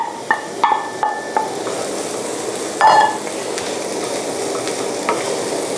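Bell pepper fries in a pan over raised heat, giving a steady sizzle with several clanging knocks and scrapes of a utensil against the pan near the start.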